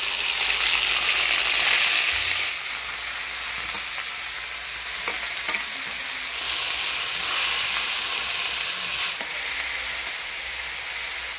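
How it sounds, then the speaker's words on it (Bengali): Chopped pea greens hit a hot pan of oil with bay leaf, whole cumin and ground spice paste, giving a loud, continuous sizzle and hiss with occasional stirring clicks throughout. "এবার কুচিয়ে রাখা মটর শাকটা দিয়ে দেব।"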